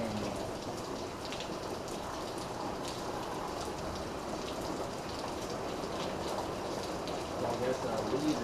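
Heavy rain in a Michigan downpour pours down as a dense, constant hiss with drops drumming on surfaces, staying steady and loud throughout.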